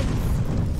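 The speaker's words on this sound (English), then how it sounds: "Explosion!" A fireball spell explodes in the fantasy strategy game Regalia, giving a short, loud, deep boom that rumbles briefly and fades within a second.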